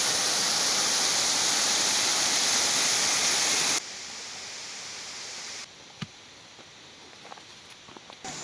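Steady broadband rush of a mountain river on Mount Labo, Camarines Norte, loud and close at first, then dropping to a quieter wash with a few faint knocks and splashes.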